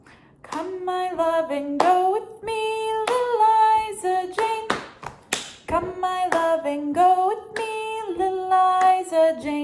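Children's body-percussion pattern of pats and claps to "Little Liza Jane" in a classroom music lesson, crisp steady rhythmic claps and taps under a sung melody.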